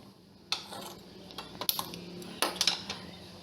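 A metal wok clanks and scrapes as it is placed on a stovetop, a few sharp knocks and rattles in a quiet kitchen.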